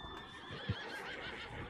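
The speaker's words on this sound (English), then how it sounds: "Shut the hell up, horse." A horse neighs in a Wild West video game, a loud whinny in a mountain setting above the clouds, heard over a steady bed of game ambience and music.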